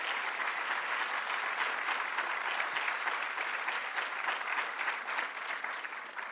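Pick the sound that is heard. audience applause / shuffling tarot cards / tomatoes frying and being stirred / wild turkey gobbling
audience applause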